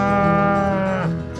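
A single long, close moo from a cow on a commercial beef cattle farm, steady and resonant for over a second before trailing off, heard alone.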